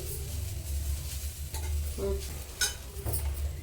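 Grated carrot for carrot halwa roasts and gets stirred in a pan, giving a soft, steady sizzle with scraping strokes of a spoon and a few sharper clinks against the pan, fairly close and with no talking.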